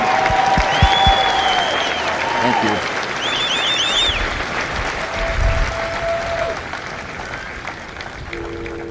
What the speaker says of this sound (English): So please join me in a well-deserved round of applause for the drill instructors and families of Alpha Company.